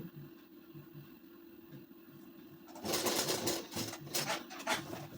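A sewing machine runs a loose basting stitch on a ladies' suit, starting after a quiet stretch of faint rhythmic ticking, then whirring in uneven close bursts; no one speaks.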